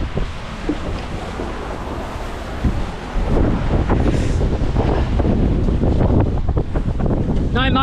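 Sailboat under jib and mainsail making nearly six knots out of an anchorage, with steady wind buffeting the microphone, waves rushing and surging along the hull, loud and continuous, growing stronger partway through, no motor.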